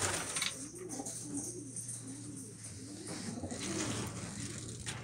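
Pigeons coo softly in a repeated rolling rhythm, several low burbling calls close by over a faint steady hum.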